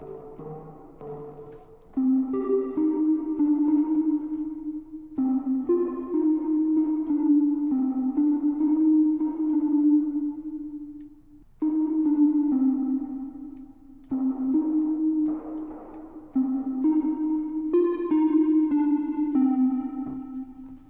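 A Baby Audio BA-1 synth plays a triangle-wave oscillator layered with white noise, sounding sustained tonal notes in separate phrases with short gaps and pitch changes between them.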